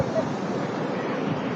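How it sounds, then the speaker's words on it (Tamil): The Kaveri, released at Kallanai dam, surges over its banks in a brief, continuous wash of flowing water, moderately loud with a faint murmur of people in the background. "கல்லணையில தண்ணி திறந்து விட்டு காவேரி கரை புரண்டு ஓடுது பாருங்க"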